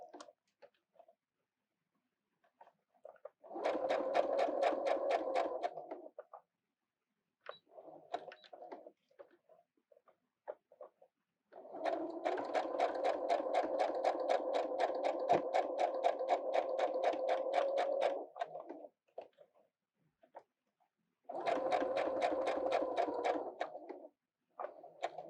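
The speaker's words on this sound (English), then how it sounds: "I'm going to sew down the long edges and across the short edges." A domestic sewing machine stitches hook and loop tape in three separate runs, the middle one the longest. Quiet handling and fabric movement fill the gaps between runs.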